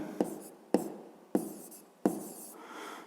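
Pen strokes writing an answer by hand in a maths exercise book, four short scratchy bursts each starting with a sharp tap, close and fairly quiet, with no talking.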